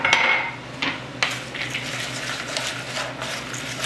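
Cinnamon, sugar, raisins and chopped walnuts being mixed together in a bowl, with close, loud clinking and scraping of a utensil against the dish and a few sharp knocks.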